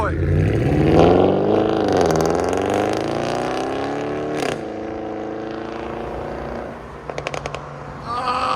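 The 6.2L V8 of a 2023 Cadillac Escalade 600 with a Borla S-Type exhaust revs hard and climbs in pitch, then settles into a steady drone before a few sharp exhaust pops near the end.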